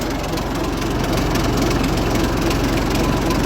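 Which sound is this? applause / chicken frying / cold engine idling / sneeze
cold engine idling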